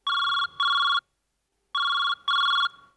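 A telephone rings with two electronic double-burst rings separated by a brief silence, clear and fairly close, with no voices over it.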